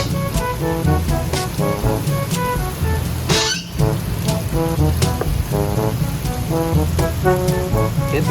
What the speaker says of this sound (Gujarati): થઈ ગયો ને વરસાદ